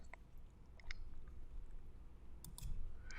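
A few quiet, sharp computer mouse clicks are heard while a new folder is created on a computer, widely spaced against a faint room hush.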